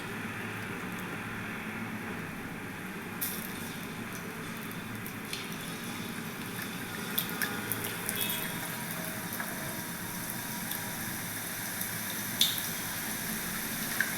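Chickpea flour batter drops into hot oil over a medium flame to fry boondi for laddoos, a steady close hiss of bubbling and sizzling that swells after a few seconds, with a few small clinks and no talking.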